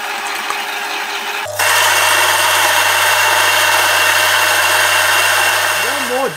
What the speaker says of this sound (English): Now let's grind 18 grams of coffee for espresso.